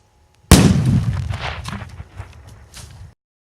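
A rack of fireworks salutes goes off outdoors in a field, one sharp loud blast followed by a rumbling tail of crackling bursts and pops that fade out over a few seconds.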